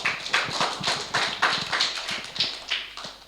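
Schoolchildren in a classroom clap together for a classmate, giving a steady run of rhythmic, fairly close claps with no talk over them.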